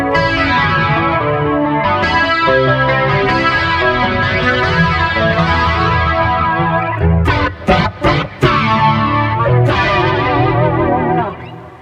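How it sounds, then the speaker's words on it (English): Electric guitar through a Kemper Profiler Gallien-Krueger 250 profile with vintage chorus and hyper chorus mixed, lush and shimmering, sustained chords and a few sharp stabs ringing out with a wide, wavering tone. "The modulation is a vintage chorus, and there's a hyper chorus."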